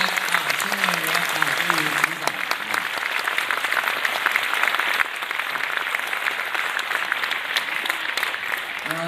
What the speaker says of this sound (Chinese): 我们给资深演员鼓掌啊